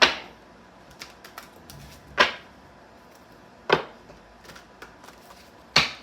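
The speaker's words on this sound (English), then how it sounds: "Last shuffle off the top of the deck." Sharp riffling bursts of cards being shuffled come at intervals, with faint soft taps between them in an otherwise quiet room.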